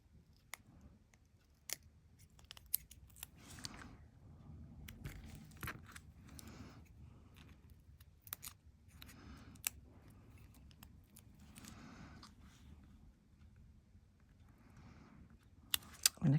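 Scissors cutting circles from paper for a copper tape and metal embossing craft, a close series of crisp snips with soft paper rustling between them, spread irregularly throughout.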